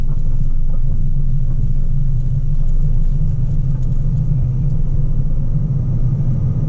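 A 2019 Toyota C-HR cruises along a country road, and a steady, loud low rumble of road and engine noise fills the cabin without pause. No one speaks.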